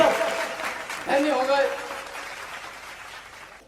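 A crowd's applause swells and fades at a Hindi poetry recital under a large pavilion tent, brief and moderately loud, with a voice speaking over the clapping before it dies away.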